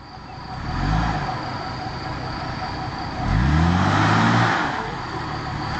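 A car engine pulled hard in second gear at full throttle with the wheels spinning, giving two rising revving surges, a short one early and a longer, louder one near the end, over steady broadband road or wind noise.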